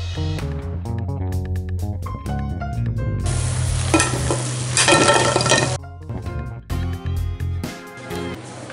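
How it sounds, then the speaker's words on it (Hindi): Egg pakoras deep-fry in hot oil, giving off a continuous bubbling sizzle. Repeated metallic scrapes and clinks come from stirring in the pan, with a louder burst of frying noise in the middle. "आठ से नौ मिनट में हमारे क्रिस्पी पकौड़ा फ्राई होकर तैयार हो जाएगा"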